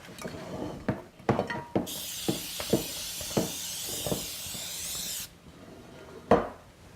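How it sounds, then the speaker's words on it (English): A steady hiss of cooking spray on a baking pan runs for about three seconds, set among scattered clinks and knocks of kitchenware. "I'm going to have you spray that for me, please."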